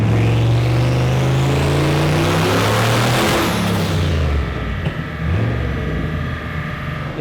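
A tuned car engine strains at high load on a dyno, roaring loud and rising, then abruptly cuts out as the electronic boost limit at about 13 pounds of boost kicks in, leaving a lower droning hum.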